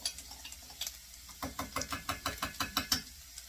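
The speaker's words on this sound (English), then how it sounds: "I'm just stirring it with a spoon." A spoon stirs rice in a pot while making vegetable fried rice, giving a steady run of about a dozen scraping clicks in quick rhythm, close and moderately loud, with a couple of faint scrapes beforehand.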